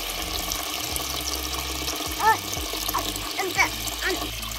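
Water running into a sheep drinking trough through a float valve, a close, steady splashing and gurgling flow with someone talking over it.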